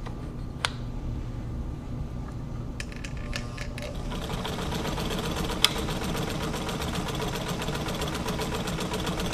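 A White 1044 sewing machine stitches on its longest stitch setting, a steady mechanical whirring hum with a couple of sharp clicks, running continuously up close.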